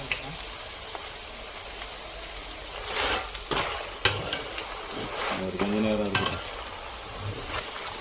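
Masala chickpeas fry in hot oil with a steady, busy sizzle, broken by a few louder stirring scrapes and clinks partway through.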